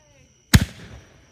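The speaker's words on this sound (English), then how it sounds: "Welcome to the sequel of Fireworks Show of 2022." A single loud, close firework blast at a backyard firework show, a sharp double-cracked boom that rings out and fades quickly in near silence.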